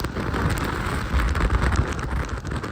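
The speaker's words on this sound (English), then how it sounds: "huge surges of blasting wind and rain just screaming through the streets of Baja, kind of ripping around the sides of the building" Typhoon wind and rain blast through the streets of Okinawa in dense, continuous broadband noise, heavy and close, with gusty surges of roaring wind and pouring rain throughout.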